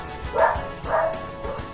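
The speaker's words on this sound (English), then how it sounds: "I apologize if you can hear the dogs in the background." Two or three dog barks in a distant background, muffled and moderately loud, spaced about half a second apart with low room noise between.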